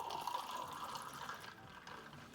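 Kombucha pours into an ice-filled glass in a steady liquid stream, close and moderately loud, that tapers off and fades to a quiet trickle after about a second and a half.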